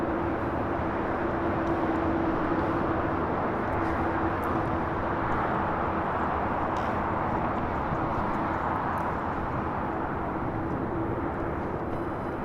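A jet airplane at LAX airport gives a steady, distant roar with a constant tone, lasting throughout with no voices.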